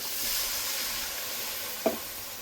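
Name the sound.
spices frying in oil in a pan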